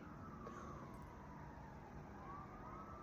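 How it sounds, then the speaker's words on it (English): A police siren wails faintly in the distance, its tone sliding slowly up and down over a low, steady background rumble. "Here's the sirens."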